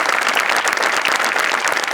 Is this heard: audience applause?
yes